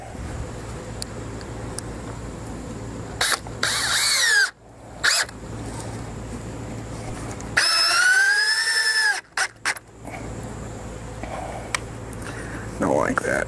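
Power drill driving screws into the back of a wooden quail hutch in a few short whirring bursts, close and loud, separated by quieter stretches with someone talking.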